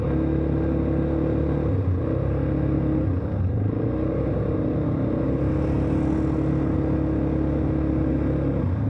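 An ATV engine drones and revs steadily through an off-road ride at a San Mateo, Rizal adventure park, a loud, continuous rumble with slight swells in throttle and no voices.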